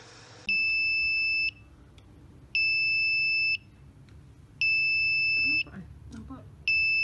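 An electronic buzzer on a paper-weighing box sounds in long, evenly spaced beeps, each lasting about a second, repeating four times against a quiet background.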